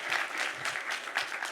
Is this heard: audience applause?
yes